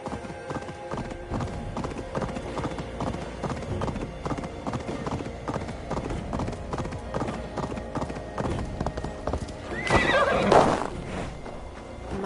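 Horse hooves clip-clop steadily in a video game, a rhythmic clatter under a faint voice, followed near the end by a loud, close whinny.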